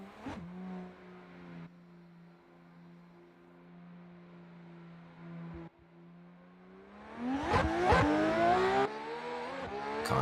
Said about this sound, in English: Connor switching to the Supra this season and looking good in it, and looking good here in round 4 through first turn.